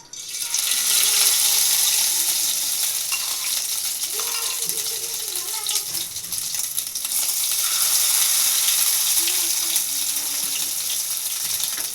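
Fish roe fries in hot oil in a wok, a loud, continuous crackling sizzle close by that rises and falls slightly over the whole stretch, with a few faint clinks.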